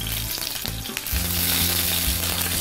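Eggplant frying in a pan with a steady, loud sizzle that swells and stays dense throughout, with no talking.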